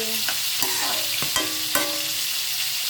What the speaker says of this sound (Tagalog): Halo-haluin lang natin ng mabuti.